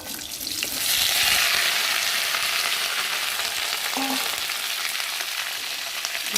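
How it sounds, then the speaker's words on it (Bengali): Potatoes fry in a pan over tempered spices, giving a loud, continuous sizzle that swells after the first second and holds steady, with a brief utensil knock midway. "আলুগুলো বেশ লাল লাল করে ভেজে নিয়েছি"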